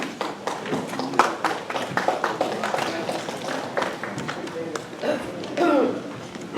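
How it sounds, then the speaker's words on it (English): Sparse, scattered clapping from a small audience at an alliance meeting, thin and uneven with individual claps audible, while people talk through it. "That applause is a little weak."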